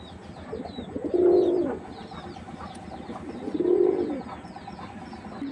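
Giribaz pigeons cooing, two distinct low throaty coos a couple of seconds apart, close by, over faint background chirping and ambient noise.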